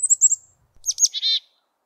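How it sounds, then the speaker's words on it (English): A black-capped chickadee calls in clear, close chirps: a quick run of high notes, a short pause, then a buzzier burst of notes against silence. "The most widespread and familiar is the black-capped chickadee."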